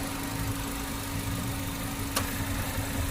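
The 1.4-litre Ecotec engine of a 2014 Chevrolet Sonic 1.4 LT idles smoothly and steadily up close, with one brief click partway through and no talking.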